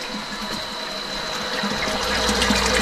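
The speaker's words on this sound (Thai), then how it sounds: "น้ำไหลปกตินะครับ" An inverter water pump running on ten solar panels alone, without mains power, sends water flowing in a steady, continuous rushing gush that grows slightly louder, with no talking.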